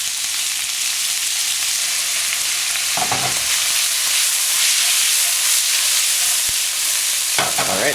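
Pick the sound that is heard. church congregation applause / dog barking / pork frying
pork frying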